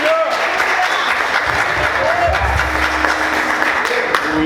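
A church congregation applauds during a sermon, a steady, dense wash of clapping that holds evenly for several seconds with faint voices mixed in.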